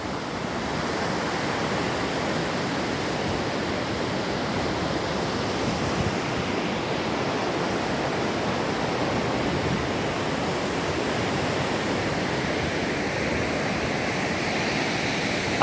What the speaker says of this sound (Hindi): आइए समंदर के दर्शन करें।